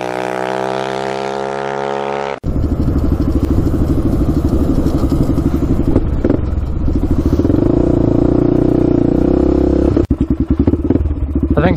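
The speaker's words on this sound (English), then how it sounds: "I think somehow the wheel wobble got worse here." A quad ATV with a wheel wobble roars loud and close, its engine note rising and falling with throttle while rattles and clatter ride over the drone, after an abrupt cut from an earlier steady tone.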